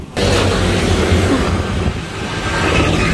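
An MRT train rumbles loudly and steadily at a station, a broad continuous roar of wheels and carriages filling the space from start to finish.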